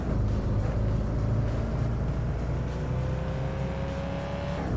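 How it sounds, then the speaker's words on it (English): Steady car engine drone in Thief Simulator VR as the vehicle drives away from a location, a continuous loud hum with a slowly rising pitch and no speech. "I am driving out of the location."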